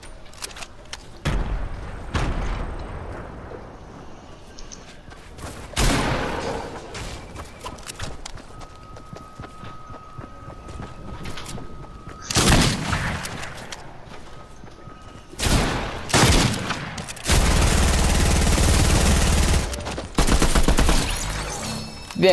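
Bursts of Fortnite gunfire, SMG fire among it, crackle in loud broken volleys with short pauses between, the densest and longest burst near the end.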